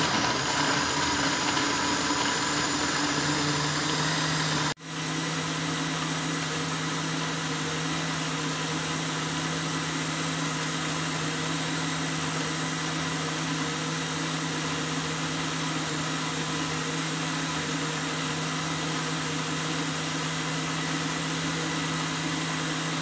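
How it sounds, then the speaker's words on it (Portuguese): A blender blending apple, mango and carrot juice whirs at a steady high speed after a brief pause, its motor droning continuously without letup. "Fechamos e vamos bater."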